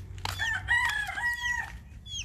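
Rooster crowing in a garden chicken coop, one long clear crow with clucking hens close by, steady low yard noise underneath and no talking.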